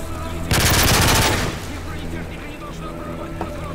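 A P90 submachine gun in Call of Duty MW3 fires a loud, rapid burst of about one second, then ambient game noise continues with light background rumble.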